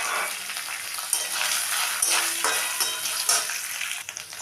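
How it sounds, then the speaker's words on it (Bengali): Chopped coconut fries in a pan with a continuous close sizzle and occasional soft stirring scrapes, alone with no talk. "সেই নারকেল কুচিটাও আগে ভেজে নেব"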